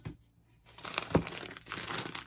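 A big plastic bag of thick, furry Christmas trim crinkles and rustles up close in short, uneven bursts after a brief quiet moment.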